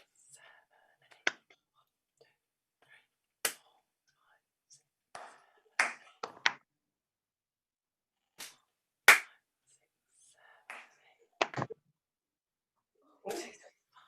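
A group of people clap in rhythm during a community music session, producing sparse, sharp claps at irregular intervals against near silence, with faint whispered voices between them.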